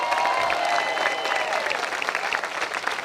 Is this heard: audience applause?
yes